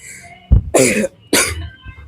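Two harsh coughs with a throat-clearing catch beforehand from an older man who is ill, captured close on a microphone during a history podcast recording in a quiet room.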